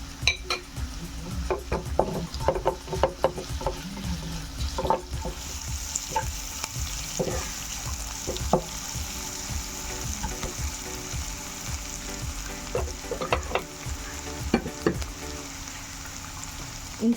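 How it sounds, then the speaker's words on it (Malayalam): Sliced onions with salt sautéing in a pan, a steady sizzle broken by frequent spoon scrapes and clinks against the metal, close and continuous with no voices. "സവാള പെട്ടെന്ന് വഴറ്റി വരാൻ വേണ്ടിയിട്ട് നമുക്ക് കുറച്ച് ഉപ്പ് ചേർത്ത് കൊടുക്കാം"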